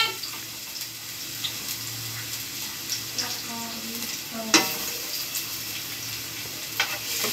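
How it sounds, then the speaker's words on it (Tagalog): Garlic frying in a pan for a tofu and bean sprout dish, a steady low sizzle with occasional stirring scrapes and a sharp clink near the middle, faint tap water in the background. "First, we need to fry the garlic."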